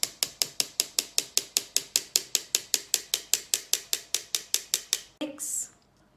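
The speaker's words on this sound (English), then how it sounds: "Sift it for 3 times." A hand-crank flour sifter working flour for a carrot cake, a steady series of about two dozen sharp ratcheting clicks at an even quick pace, close up, ending with a brief rustle.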